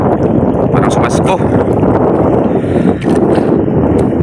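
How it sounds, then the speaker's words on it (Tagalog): Strong wind buffets a fishing boat at sea during rain, a steady roaring rush across the whole clip with a brief lull near the end, blended with hull and water noise. "Yan na, lumakas ang hangin."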